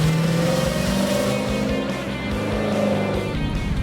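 Engine of an autocross Chevrolet Camaro driving hard through a lap, with a loud, steady motor note rising and falling as it revs through corners, close and continuous with no speech.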